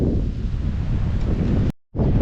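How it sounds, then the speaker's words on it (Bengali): Strong wind roars and buffets the microphone steadily on a high mountain cliff at Tarey Bhir, Sikkim, cutting out abruptly for a moment before the gusting rush returns. "প্রচণ্ড হাওয়া এখানে"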